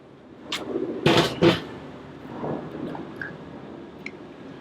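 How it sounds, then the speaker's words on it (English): Thick chicken wing sauce pours into a big mixing bowl in a couple of wet, glugging bursts, followed by quieter drips and soft splats. "And just pour sauce in it."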